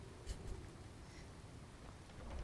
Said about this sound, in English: It's still raining, it's still thundering.